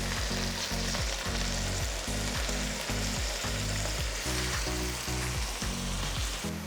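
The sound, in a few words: keema and tomato paste frying in a pan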